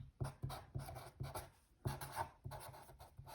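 A pen writes by hand on paper, close and quiet, in short rhythmic scratching strokes with brief pauses.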